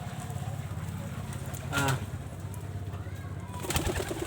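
Pigeons cooing softly as they are fed, low throaty coos rising and falling across the clip with a brief flutter or bird call near the middle and another toward the end, set against a faint background hum.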